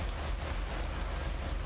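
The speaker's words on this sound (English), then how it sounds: "Can't harvest taters with all this rain." Rain falls steadily in the video game Lake, a dense, even patter with a low rumble beneath and no pauses.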